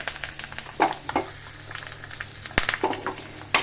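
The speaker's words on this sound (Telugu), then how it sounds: "చూసారు చిట్టపట్ట చిట్టపలాడుతుంది" Dried red chillies, mustard seeds, fenugreek seeds and curry leaves spluttering in hot oil for a traditional tamarind stew, a steady close sizzle broken by sharp popping crackles, with a few louder pops standing out.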